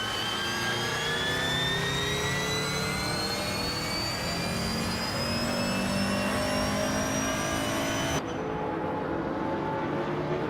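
A 2017 Chevrolet Cruze racing in a video game, its engine holding a loud, steady whine that climbs gradually in pitch, with a sudden shift in tone near the end.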